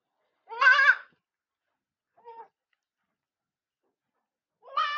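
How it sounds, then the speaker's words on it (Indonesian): A two-day-old goat kid bleats: one clear, wavering cry, a short faint bleat after a pause, then another strong cry starting at the end, all close and with quiet in between. "Ini kambing berusia 2 hari ya Mas."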